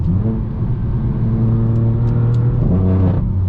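A straight-piped BMW M4 F82 exhaust drones loud and close on a mountain road, holding a steady rumble before rising in a brief surge of revs near the end.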